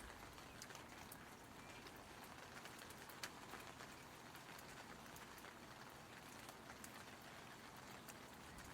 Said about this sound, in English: It's raining pretty hard and you don't have an umbrella.